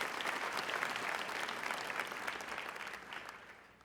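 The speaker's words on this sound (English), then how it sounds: "definitely give yourselves a round of applause for everything that you've done" Audience applause at a high school IB pinning ceremony, a dense, sustained patter of many hands that stays fairly even before slowly tapering off.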